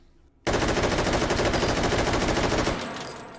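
A Malyuk carbine empties a 30-round magazine of 7.62x39 in a rapid, continuous automatic burst in the H3VR shooting game, loud and close, ending abruptly into a brief fading tail.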